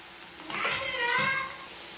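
Onions sizzle and fry in a pan for a potato and cucumber curry, giving a soft steady crackle with a brief swell as they are stirred.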